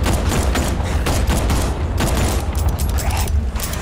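Dense gunfire in Arkham Knight, a continuous crackle of rapid shots and booms with no clear gaps, loud and close, layered over a low rumbling bed.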